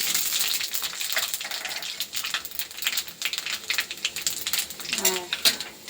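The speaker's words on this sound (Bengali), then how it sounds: "তো কড়াতে এখানে তেল, শুকনো লঙ্কা, তেজপাতা দিয়েছি, আর দিয়ে দেবো হচ্ছে এখন 5 ফোড়ন" Panch phoron spices and dried red chilli with bay leaf crackling and spitting in hot oil in a kadai, a steady busy sizzle with sharp pops, close and fairly loud, no one talking.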